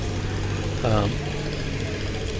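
A passenger launch engine runs at Dhaka, giving a steady, loud, low droning hum throughout with a short tonal blip about a second in.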